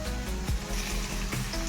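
Onions sizzle in a tablespoon of oil in a pan, a steady close frying hiss with a couple of brief stirring clatters and no talking.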